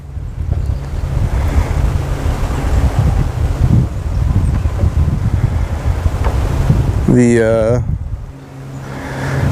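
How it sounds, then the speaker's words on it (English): Strong wind blows steadily outdoors on a cool November day while fishing, roaring loudly across the microphone with constant buffeting; a brief voice-like tone cuts in near the end before the gusts return. "that wind is blowing nice and strong"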